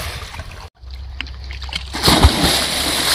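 A person jumps into the water of a village well, making a loud splash and sloshing churn after a brief silence, near and forceful, with a voice faintly underneath.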